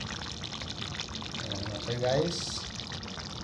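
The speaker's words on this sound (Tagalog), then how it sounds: "Tapos ang tubig niya yan." Water poured into a pot of chicken wings curry in a home kitchen: a steady splashing pour running throughout under a person talking, swelling briefly in the middle.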